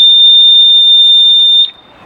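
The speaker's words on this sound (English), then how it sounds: "this thing alarms whenever the power goes out, and it's very loud, audible, and annoying alarm." A battery-powered power-failure alarm plugged into a freezer outlet emits a loud, steady, piercing high-pitched tone for about a second and a half, then stops abruptly.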